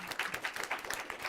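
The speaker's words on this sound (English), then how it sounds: "let's keep applauding for our wonderful panel" An audience at an energy-policy panel discussion applauds, a brief burst of many hands clapping densely in a room, moderately loud and continuous.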